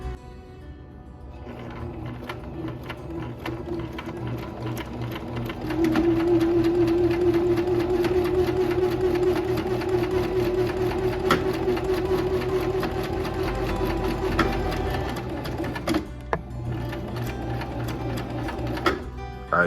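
A sewing machine runs a simple stitch over a patch on very soft fabric, a steady close whirring hum that swells in the middle stretch and continues without talk.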